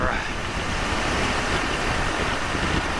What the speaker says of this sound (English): It is really, really, really windy.